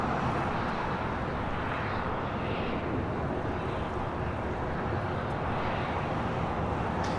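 An Emirates airliner on approach to LAX in gusty crosswind, a steady broadband jet roar with wind rumble, loud and unbroken throughout, no voices.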